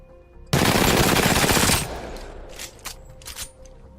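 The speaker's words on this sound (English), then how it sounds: "This is the full auto weapon. Let's check out the recoil pattern." A full-auto weapon in Apex Legends fires one loud, dense burst of rapid shots lasting just over a second, followed by a few fainter scattered cracks and a dying tail, with no voices.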